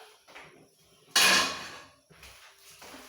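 A frying pan is picked up and set down with one sharp metallic clank in the middle, followed by a fading ring and softer handling knocks on either side.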